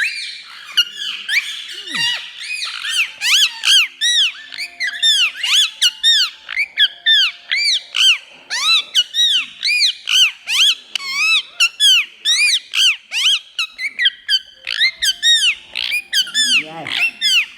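A pet parrot lets out a long run of loud, shrill squeaks and squawks, close and nearly continuous, with a person murmuring briefly in the background.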